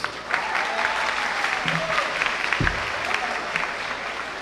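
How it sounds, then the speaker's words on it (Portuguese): Church congregation in Cabo de Santo Agostinho gives a sustained round of applause, a steady crowd clapping with some cheering voices and a brief low thump partway through. "Uma salva de palmas para vocês"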